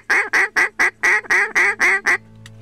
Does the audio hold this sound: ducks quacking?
yes